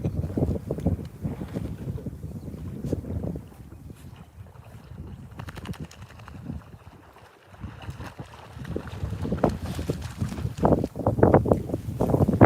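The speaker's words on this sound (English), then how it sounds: "we're trying to hide from the wind, which is not working today" Gusty wind buffets a microphone on a small fishing boat out on the water, a loud rumbling roar that surges and eases, briefly dropping quieter midway before building again, with no talk.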